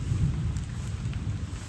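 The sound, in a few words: rain falling from above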